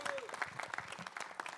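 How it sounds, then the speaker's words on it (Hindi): An audience at an Indian mixed martial arts wrestling talent event claps in dense, fairly faint applause, with a voice briefly over the top. "एक बार जोरदार तालियां इनके लिए।"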